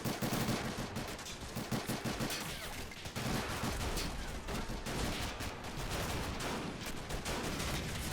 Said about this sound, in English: the Marines are making their way in under mortar fire and machine gun fire